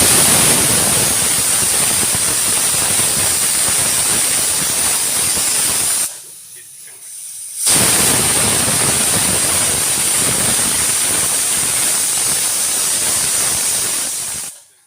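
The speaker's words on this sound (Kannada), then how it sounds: "ಎರಡು ವಿಷಲ್ ಆಗಿದೆ." A pressure cooker cooking chicken gizzards in turmeric water lets out a loud, sustained steam whistle, a long hiss that cuts off briefly mid-way, then resumes just as strongly before stopping.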